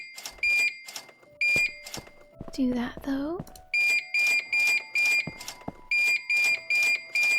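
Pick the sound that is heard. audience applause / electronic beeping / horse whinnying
electronic beeping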